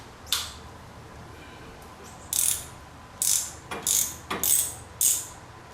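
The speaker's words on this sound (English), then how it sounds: "Okay, so I have the bolt cracked." A ratchet wrench loosens a bolt on a Honda VTX 1300R motorcycle during a coolant change, giving several short, close bursts of rapid clicking separated by brief pauses, with no talk.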